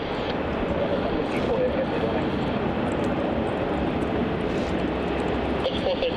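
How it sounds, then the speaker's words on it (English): A Virgin Australia airliner, flight VA208 from Adelaide, lands on runway 34 at Melbourne Airport, heard as a continuous broad engine roar that holds steady throughout, with voices faintly in the background. "Arriving on runway 34, we have Virgin Australia flight VA208 coming in from Adelaide"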